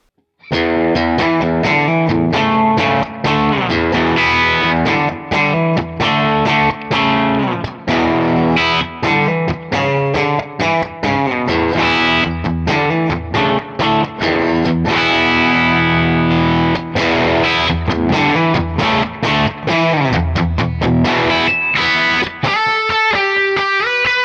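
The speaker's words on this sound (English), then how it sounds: "the type of overdrive that you would pay way too much money for because it's transparent, so it does very little to your tone" Electric guitar played through a Kemper profiler with a transparent overdrive boost switched off and on, giving loud, continuous distorted chords and riffs with a steady rhythmic attack, ending in a quick run of picked notes.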